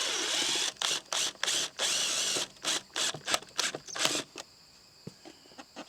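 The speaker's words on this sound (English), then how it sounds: "I just take my screw, put 4 screws in," Screws driven in to mount a HaloView camera system, a close buzzing whir of a power driver in several short bursts with pauses between, ending in quieter clicks.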